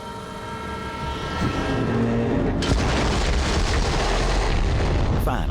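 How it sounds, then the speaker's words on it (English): A Borderlands 3 explosion wrecks a train in a forest, a loud sudden boom with heavy crash and rumble, followed by sustained roaring train noise that stays loud to the end. "Explosion echoed through the forest, and those devil riders didn't even get a chance to hit the brakes."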